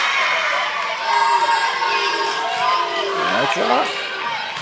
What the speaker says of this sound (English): the Lutheran crowd starting to amp up again